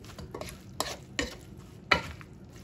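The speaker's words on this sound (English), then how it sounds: "all you do now, just give it a stir" Seasoned fried cabbage cooked in sausage grease is stirred in a pan, a few sharp utensil scrapes and clinks over a low, soft sizzle.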